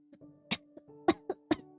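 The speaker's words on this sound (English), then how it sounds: "The entity begins to cough as if choking." Several harsh, sputtering coughs in quick bursts from an entity in the video game Septem, choked and strained, separated by short pauses over a faint steady hum.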